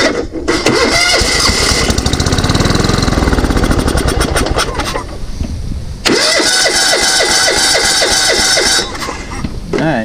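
Old riding mower engine cranking and catching, loud and close, with rapid sputtering bursts, a brief drop, then a second start attempt running rough and steady to the end.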